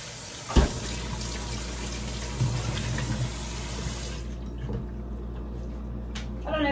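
Tap water runs steadily into a sink while food is rinsed beneath it for a pancake breakfast, a continuous near splash with a brief sharper clatter early on and the flow easing toward the end.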